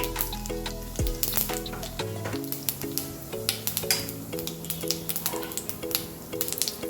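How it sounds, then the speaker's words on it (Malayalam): Cumin seeds splutter in hot ghee with a soft, scattered crackle and sizzle, lasting several seconds under steady background music. "ഞാൻ കുറച്ച് ജീരകം ഒന്ന് ടേസ്റ്റിന് വേണ്ടിയിട്ട് കുറച്ച് ജീരകം പൊട്ടിക്കുക"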